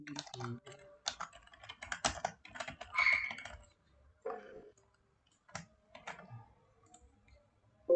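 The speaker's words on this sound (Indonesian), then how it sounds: "lagi diketik" Someone types on a computer keyboard in bursts of quick clicking keystrokes with short pauses between, close and moderately quiet, with no voices.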